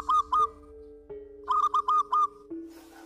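Repeated soft zebra dove coos in short paired bursts over a steady low hum at night, with a pause between groups and a brief hiss at the end.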